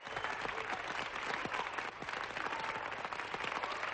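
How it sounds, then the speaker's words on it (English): Applause and cheering fill a mission control room at a spacecraft landing, a dense steady wash of many hands clapping, fairly faint and continuous throughout. "There's a cheer in this room."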